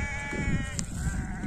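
Sheep bleating outdoors on a Turkish grazing pasture, freshly released from the pen; a few overlapping bleats stand out over steady low rumble and background noise, fairly close and loud, with no talking.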